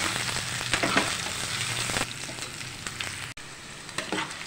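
Cut potatoes frying in a pan make a steady close sizzle, with brief stirring scrapes and a momentary dropout partway through before the frying noise resumes slightly quieter.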